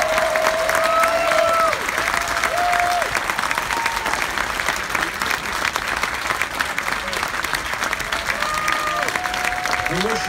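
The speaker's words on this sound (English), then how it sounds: "Let's give another big round of applause" Applause rises from an audience for the cast of a cruise ship show aboard the Star Princess, a steady broadband roar of many hands lasting throughout, with a few faint whistles and scattered voices mixed in.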